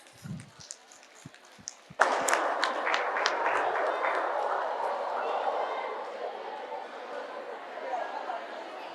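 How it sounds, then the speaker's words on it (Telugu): A large crowd at a Patriji Dhyana Yagnam meditation event in Vizag bursts into loud, sustained applause that swells suddenly and then fades slowly, with a few scattered claps and voices just before it. "గట్టిగా ఒకసారి క్లాప్స్ కొడదామండి"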